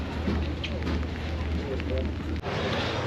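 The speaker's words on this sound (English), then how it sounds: "It started raining, so we had to move in." Steady rain pours down at Lake Como in Bellagio, a dense, even hiss that carries on without a break for the whole stretch. A brief dip comes near the end.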